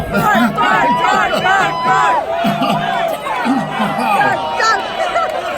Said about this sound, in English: What a crowd tonight.